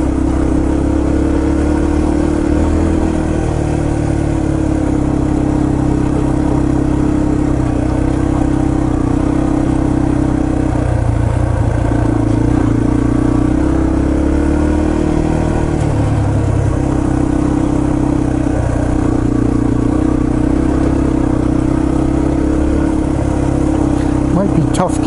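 A Yamaha TTR 230 dirt bike engine drones steadily with shifting revs on a trail at Windrock Park, loud and close throughout, as the bike keeps moving along.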